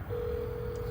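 A telephone line gives off a steady single dialing tone, held continuously and fairly quiet over low background hum.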